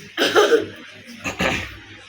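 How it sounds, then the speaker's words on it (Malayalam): Two short, harsh coughs about a second apart, close by and fairly loud, with nothing else around them. "ചുമന്ന് തുടങ്ങിയിട്ടുണ്ട്"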